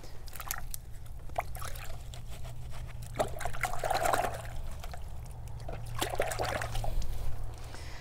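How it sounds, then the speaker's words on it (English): A freshly trimmed wasabi plant is swished through a bucket of water, making soft splashes and trickles in irregular bursts over a low steady hum, fairly quiet and close. "And so I'm just going to swish this in my bucket here."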